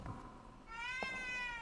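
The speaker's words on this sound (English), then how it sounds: "Oh, no, that's a cat." A cat meows in the video game Bloodborne, a single drawn-out rising and wavering cry lasting over a second, clear and close with no talk over it.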